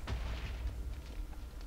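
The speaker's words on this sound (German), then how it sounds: "wo jetzt auf einmal die Kanonen herkommen" Cannon fire in the Minecraft video game: a dense run of deep, booming blasts with muffled rumbling impacts, loud and steady throughout with no talking over it.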